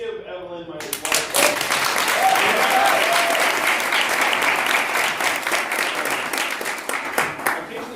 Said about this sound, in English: Let's give Evelyn my applause